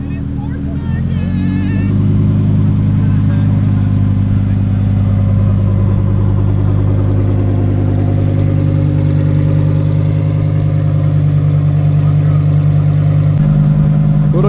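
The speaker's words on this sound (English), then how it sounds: "Oh, ho, ho. This is a new Lambo Evo." A Lamborghini Huracan Evo engine idles loud and close at a supercar meet, a deep steady drone that swells after a brief blip near the start, with a person talking over it.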